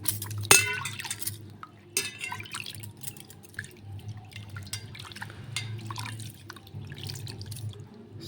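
Water splashes and drips as scrub is rinsed off hands at a sink, with a sharp tap near the start and quiet trickling and splashing throughout, no talking.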